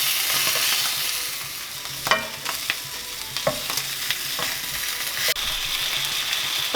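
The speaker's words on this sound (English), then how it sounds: "the sausages have been browning for about 4 or 5 minutes" Sausages (bangers) browning in a frying pan give a steady, close sizzle, broken by several sharp clinks and scrapes as they are turned; no voices.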